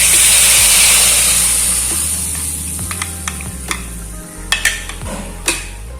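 Ground masala paste sizzles in a pan for Palak Paneer Malai Kofta curry, a loud hiss that slowly fades while a spoon scrapes and taps the pan in scattered strokes.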